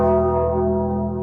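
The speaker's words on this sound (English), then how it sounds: "Ring the bell." A single bell struck as a sound effect rings out loud and clear, its bright tone decaying slowly over about a second with no talk.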